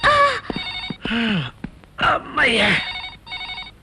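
A telephone rings in short repeated bursts, mixed with voices speaking over and between the rings.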